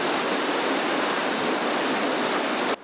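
Floodwater from an overflowing river near San Nicolò, Portogruaro area, rushes in a loud, steady broadband roar that continues unbroken before cutting off abruptly at the very end.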